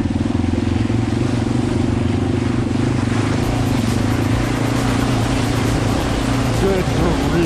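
Yamaha XT250 motorcycle ridden off-road through soft, snowy mud, its single-cylinder engine a steady close throbbing drone held at even throttle, with a rider's voice over it.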